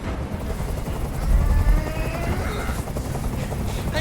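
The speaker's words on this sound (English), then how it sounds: "I can't stand that noise anymore. Tell that helicopter to get out of here." Helicopter rotor drone from the video game Detroit: Become Human, a steady low throbbing hum that swells briefly around the middle, mixed with game ambience and faint voices.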